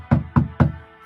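Three firm, evenly spaced knocks on a heavy gate, close and loud, each a sharp thud with a short decay and nothing else around them.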